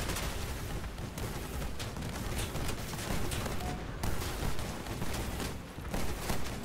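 Helios plasma emitters fire in Crossout as a dense, continuous barrage of loud crackling blasts and booms, with a few brief dips between bursts.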